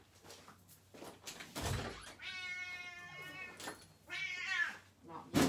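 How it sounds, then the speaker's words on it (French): A cat cries on the other side of a closed door, giving drawn-out, plaintive meows at moderate distance, with a few bumps and rustles around the calls. "si vous entendez ma chatte, elle est de l'autre côté de la porte et elle pleure"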